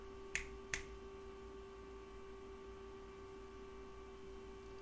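Two sharp finger snaps in quick succession, close and crisp over a steady low room hum, no talking.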